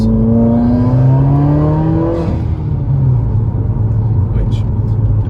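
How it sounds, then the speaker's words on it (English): A 2017 Subaru WRX with an open-filter intake on the stock bypass valve gives a loud, rising induction whoosh and engine drone during a small acceleration, then the revs fall back to a steady rumble, with someone talking over it. "I'll do a very small acceleration. You should be able to hear the induction noise"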